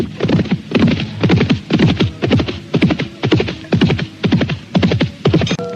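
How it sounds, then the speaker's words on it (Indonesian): Hoofbeats of a horse galloping away, a staged sound effect in a Javanese historical radio drama set in Majapahit; steady rapid clip-clop rhythm, loud and close throughout, with no voices. "segera Gajah Lodra memutar kudanya, kemudian berlari ke arah semula."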